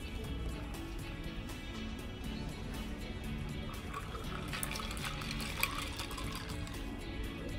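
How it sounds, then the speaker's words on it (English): Mediterranean tonic water poured into a glass of nettle gin, a faint fizzing and splashing trickle over quiet room tone, growing a little brighter toward the end. "So, I have Mediterranean tonic water to add."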